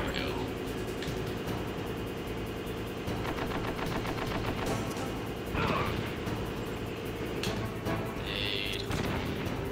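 Rapid automatic gunfire from a boss's giant gun in Metal Gear Solid, a steady rattling burst running the whole time under dense game noise, with occasional louder impacts.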